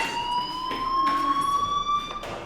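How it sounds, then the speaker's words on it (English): Fire alarm ringing at a school in the video game Life Is Strange: a steady, loud electronic tone with a continuous pitch that rises slowly, over light background noise. "do you hear that fire alarm? That means you should be outside."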